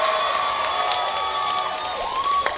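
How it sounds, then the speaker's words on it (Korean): Crowd of roughly 800 at a spring flower festival youth dance contest cheers and applauds for its youngest performers, a dense, sustained roar of claps and shouts with children's high voices and whistles mixed in. "여러분들 박수와 함성을 한번 들어보겠습니다."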